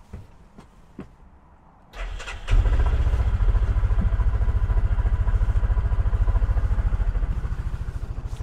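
A 2019 Cub Cadet Challenger MX 550 utility vehicle engine cranks and fires after a few faint clicks, then settles into a steady, loud, rhythmic running chug that continues to the end.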